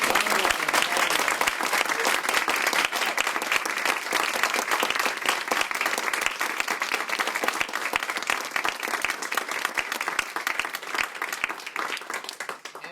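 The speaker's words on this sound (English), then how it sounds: "why don't we give her the sound of applause?" Opera audience applauds for the mezzo-soprano guest at an evening event, a loud, sustained wash of many clapping hands that stays even for about thirteen seconds before tapering slightly.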